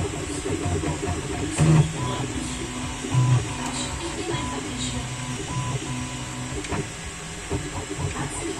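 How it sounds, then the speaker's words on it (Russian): An Elegoo Neptune 4 3D printer hums and whirs steadily with shifting motor tones, while a television plays voices and sounds in the background. "Я сейчас включу звук, чтобы вы слышали, с какой громкостью работает принтер"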